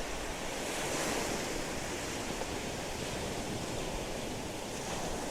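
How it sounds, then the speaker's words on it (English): Strong westerly wind blows offshore across Tyninghame Beach on Scotland's east coast, a steady, loud broadband roar of gusts buffeting the microphone, with surf washing underneath and no voices. "That wind's quite strong."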